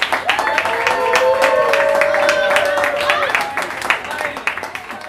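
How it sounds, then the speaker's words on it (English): An audience claps steadily for the vocalist Ursula during a live Kiss radio show, with a sustained voice or tone ringing over the continuous applause. "But I want y'all to start clapping now. Start clapping now. And give it up for the vocalist, siren herself, URSULA."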